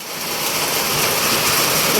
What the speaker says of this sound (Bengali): কঠিন বৃষ্টি হইতেছে